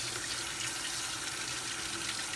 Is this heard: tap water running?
yes